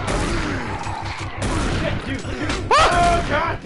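Rapid gunfire in the video game Doom, with dense overlapping shots and game action, loud and continuous, ending in a sharper burst of effects.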